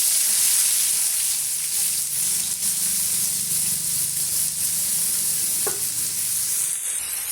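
Three large finely chopped onions sizzling in hot oil for Tamil pepper chicken fry, a steady, close hiss with soft stirring scrapes and one brief click, no talking.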